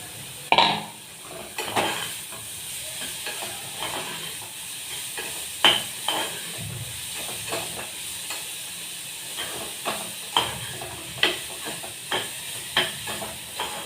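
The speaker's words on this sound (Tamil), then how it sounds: "இந்த கேரட்டை போட்டு கொஞ்சம் வதக்கிக்கணும்" Carrot pieces being sautéed with roasted vermicelli in a pan for carrot semiya payasam, giving soft stirring scrapes and light sizzle with scattered utensil knocks over about fourteen seconds, no talking.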